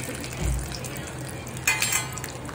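Dry fruits such as almonds frying in hot ghee for mutton mandi, a steady soft sizzle in a pan with a brief louder hiss of fat partway through.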